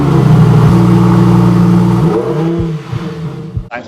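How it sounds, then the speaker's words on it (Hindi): A tuned and modified Lexus GS 300 drift car, built to 750 HP, revs hard, its engine held at a loud steady drone for two seconds before the throttle drops and it settles into a rough, fluctuating idle nearby. "तो ये उसकी ड्रिफ्ट कार है। This is Lexus GS 300"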